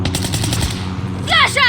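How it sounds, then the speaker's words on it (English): Rapid automatic gunfire rattles loudly in a team deathmatch video game match on the Sawmill map, with a short voice cutting in near the end. "Stop shooting at me!"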